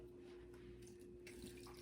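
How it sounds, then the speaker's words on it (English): A baking soda mixture is poured into a plastic-wrap-lined bowl shaped into a crater for a toddler ice volcano activity, giving a steady, close liquid pour with a constant hum beneath it. "Then we're gonna take it and we're gonna pour it"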